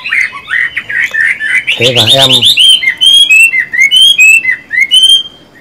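A hwamei songbird kept indoors gives a loud, close run of varied whistles and chirps with quick trills. A person speaks briefly partway through.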